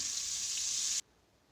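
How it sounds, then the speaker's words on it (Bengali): Butter melting in a hot pan for restaurant-style fried rice gives a steady, bright hiss of sizzling that cuts off abruptly after about a second, leaving near silence. "দেখুন আমি নেড়ে গলিয়ে নিচ্ছি বাটারটা।"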